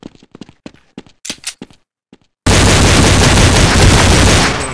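A few quiet footsteps and clicks, a brief pause, then sustained, dense automatic gunfire from Counter-Strike 1.6 roars loudly and continuously for the last half of the clip.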